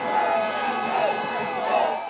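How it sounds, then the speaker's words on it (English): An excited crowd cheers as Barack Obama is named the 44th president of the United States, with loud, sustained shouting and whooping throughout. "The crowd couldn't hold in their excitement when Barack Obama was named the 44th president of the United States."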